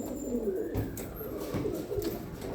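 Pigeons coo near a feeder, soft low repeated calls close by over a murmur of birds.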